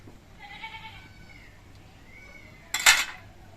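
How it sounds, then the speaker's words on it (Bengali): Metal lids are lifted off cooking pans during homemade papad making with leftover rice starch water: one sharp, close clatter near the end, preceded by a faint bleat-like squeak and quiet room tone. "আবার আমি ঢাকনাটা খুলে নিচ্ছি আর ঢাকনিগুলো নামিয়ে নিচ্ছি"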